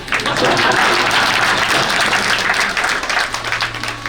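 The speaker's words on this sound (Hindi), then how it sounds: "सब कहते ताली बजा के हंसो जोर से" A village gathering on a Braj pilgrimage, clapping and laughing loudly together at a spiritual talk; dense, sustained clapping and crowd noise fills the whole stretch at steady volume.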